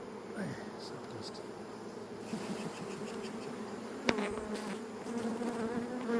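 Honeybees buzz steadily around a beehive in a close, continuous drone, with a sharp knock partway through and no talking.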